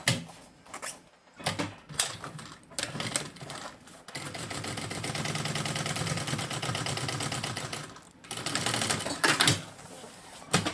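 A sewing machine topstitches a school backpack, whirring steadily and close for about four seconds between short bursts of stitching and fabric handling.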